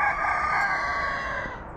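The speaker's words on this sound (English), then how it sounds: "chickens." A single rooster crows one drawn-out, clear call at moderate distance over a quiet background.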